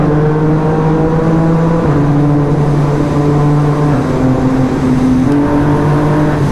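Yamaha MT-09 motorcycle engine pulling hard under throttle, a loud, steady close-up drone whose pitch climbs in long sweeps with brief shift breaks, recorded on the bike itself with wind rush.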